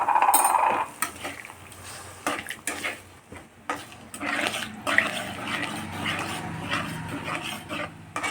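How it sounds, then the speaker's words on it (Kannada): Water poured into a steel pan of simmering okra gojju, with a brief splash and hiss followed by scattered clinks of a spoon against the pan, close and fairly quiet, with no talking. "ಇವಾಗ ನಾನು ಸ್ವಲ್ಪ ನೀರನ್ನ ಹಾಕ್ತಾಯಿದ್ದೀನಿ"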